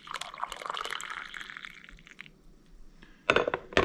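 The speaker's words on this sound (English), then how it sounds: "I do like it, it pours really nice." Coffee pours from the carafe of a Black & Decker 5-cup coffee maker, a steady liquid stream splashing into a cup for a few seconds, fading, then a louder burst of splashing and clinks near the end.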